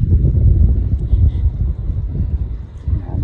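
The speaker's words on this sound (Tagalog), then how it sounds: "Hangin lang pud mi kay hangin man oh" Steady wind buffeting the microphone outdoors by the sea, a continuous low rumble with gusty swells and no voices.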